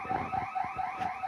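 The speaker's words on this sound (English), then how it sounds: "It's a fire alarm." A building fire alarm rings steadily through an indoor lecture hall, a repeating electronic tone pulsing at a fast, even rhythm, moderately loud and continuous with no talk over it.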